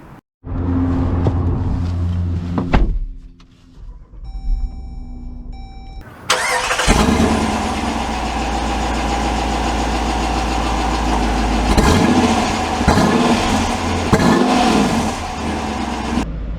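A 2022 Dodge Durango R/T cranks, its engine catches with a loud roar, then settles into a steady, rumbling idle with slight swells, close and clear with no talking.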